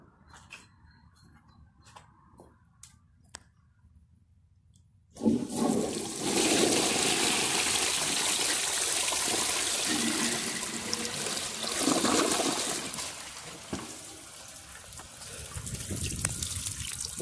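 A 1958 Compton toilet flushes a washcloth and two grocery bags: a few faint clicks, then a sudden loud rushing flush that roars steadily for about twelve seconds and tapers into refill water.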